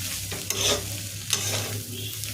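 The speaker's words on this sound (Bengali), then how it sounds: "ভাত ভাজা বানাচ্ছে।" Rice being fried in a pan, steady sizzling broken by a few quick spatula scrapes and tosses, close up with no voices.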